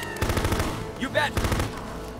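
Bursts of automatic gunfire from the military squad combat video game Full Spectrum Warrior, rapid repeated shots across the clip with a brief shouted voice layered in the middle.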